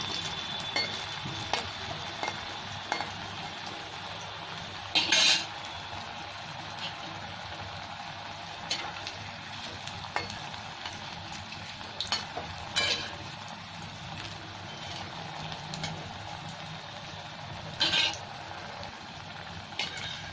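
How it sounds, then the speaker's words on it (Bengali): Fish frying in hot oil in a pan for a Bengali-style curry, a steady soft sizzle running throughout with occasional brief crackles and spatters, close and moderately quiet. "তেল আমার গরম হয়ে গেছে, এবার আমি মাছগুলো ভেজে নিচ্ছি।"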